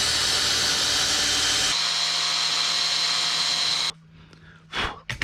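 A small rotary tool grinds holes into the plastic front bumper of a Tamiya Grand Hauler model truck, a loud continuous whine that cuts off abruptly, followed by quieter brief handling noises.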